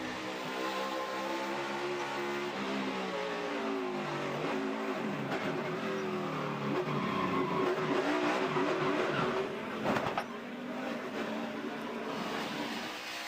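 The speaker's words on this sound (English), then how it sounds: "As you can see, the 51 of Jeremy Clements go by." NASCAR Nationwide race car engines at Montreal roar continuously, rising and falling in pitch as cars pass, with a sharp burst of noise near the end.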